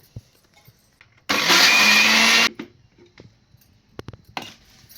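A kitchen mixer grinder (mixie) whirs loudly in one steady burst of about a second, blending fish curry spices, then stops, followed by quiet kitchen clatter.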